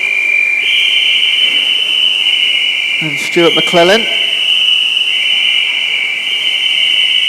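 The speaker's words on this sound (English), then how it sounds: "Going to hear plenty of whistles now" High steady whistles blowing continuously at a masters long course swimming championship finish, loud and sustained, with a commentator talking briefly partway through.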